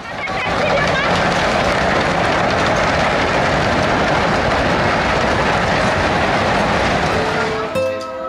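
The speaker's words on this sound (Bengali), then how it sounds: "সামনে আসতেই চলে আসলো ট্রেন।" A train rolls past close by at a park in Lalpur, Natore, its loud continuous rumble and rhythmic clickety-clack of wheels on rails filling the whole stretch before cutting off at the end.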